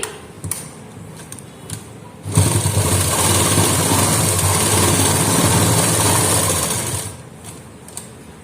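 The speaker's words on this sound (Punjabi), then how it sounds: "ਹੁਣ ਆਪਾਂ ਇੱਥੋਂ ਸਲਾਈ ਲਗਾਉਣੀ ਸ਼ੁਰੂ ਕਰਾਂਗੇ" A sewing machine stitching a long straight hem on a salwar, running in a loud, steady mechanical whir for several seconds between a few short clicks before and after, close up with no talking.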